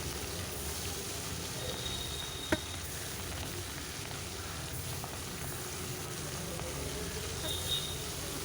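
Fish frying in mustard oil in a wok, a continuous close sizzle with faint scraping and a single sharp tap, no talking.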